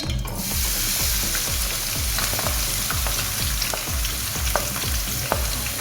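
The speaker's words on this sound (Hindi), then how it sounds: "प्याज को हम ब्राउन करेंगे।" Chopped onions frying hard in hot oil in a wok, browning, a steady loud sizzle with a regular rhythmic scrape and clatter of stirring throughout.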